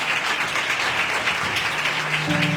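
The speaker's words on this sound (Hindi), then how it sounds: "आए तालियां बजाते हैं" Congregation at a Christian church gathering applauding for Jesus, steady dense clapping throughout at close range, with a faint held musical tone entering near the end.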